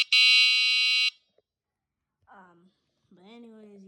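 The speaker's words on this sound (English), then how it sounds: "I don't know where the horn comes from here." The Nova mini scooter's horn blares once, loud and shrill, for about a second, then stops, followed by brief talking.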